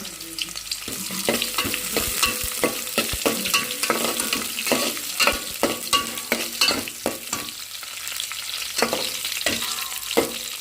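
Vegetable slices cut into coins fry in a pan over low heat: a continuous sizzle broken by frequent, rhythmic clinks and scrapes of a spatula, close and loud, with no voices.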